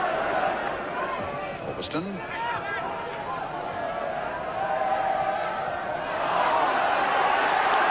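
Football crowd at Loftus Road during a Queens Park Rangers v Manchester United match, a steady broad roar of thousands of spectators that swells slightly near the end, heard under a commentator's continuous talk.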